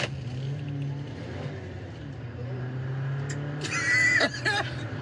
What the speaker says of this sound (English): It just like went and hit the rev limiter and then died.